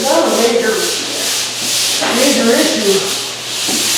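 Drywall screw patches on a ceiling are sanded by hand, loud close scraping strokes in a steady back-and-forth rhythm, each rub rising and falling in turn, with no voices.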